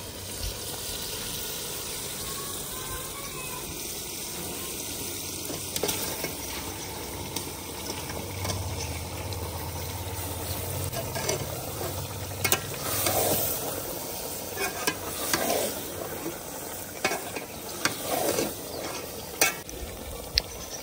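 Meat frying with yogurt in a pot after a tempering, giving a steady close sizzle with intermittent scraping and stirring clatter from a spoon against the pot; no voices.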